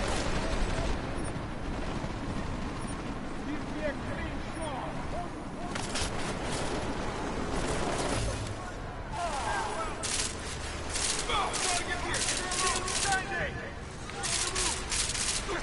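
Machine pistol gunfire in the video game Deus Ex: Mankind Divided: dense rapid bursts of shots and impacts layered over constant busy combat noise, loud and unbroken throughout.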